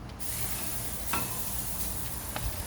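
Garlic-seasoned steaks hit a hot pan and sizzle steadily and close by, with a few sharper crackles and pops over the continuous frying hiss.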